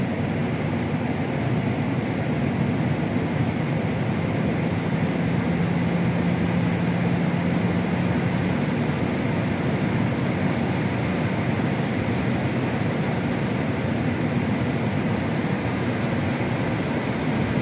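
Airbus A320 jet engines spooling up toward about 50 percent N1 during a ground run-up for troubleshooting, a loud, steady, unbroken roar with a constant high whine, heard from the cockpit with no talk.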